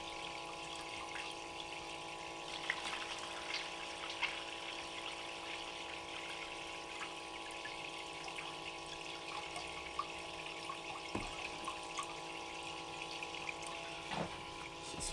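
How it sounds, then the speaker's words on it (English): Pumped water runs steadily through a gold-prospecting sluice box as a continuous, faint rushing flow with a low pump hum. No one speaks and the sound never changes. "So let's fire this sluice up. Got a good flow going to it."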